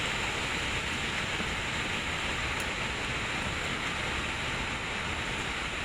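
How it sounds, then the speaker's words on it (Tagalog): Strong typhoon wind roars steadily through a mangrove area with light drizzle, a dense, unbroken rushing noise close by and no voices. "Hindi naman mas malakas yung ulan, ambon-ambon lang, hangin yung malakas rito."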